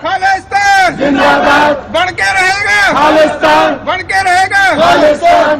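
Crowd of protesters outside an embassy in Europe chants slogans against the Modi government and for Kashmir's freedom, loud rhythmic call-and-response shouting in repeated bursts, close and continuous.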